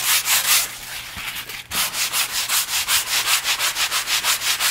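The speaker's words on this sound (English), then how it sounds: "So let's get that sanded." Sandpaper rubbing back and forth over a glazed wood finish in steady, loud, rhythmic strokes, with a brief pause partway through before the regular strokes resume.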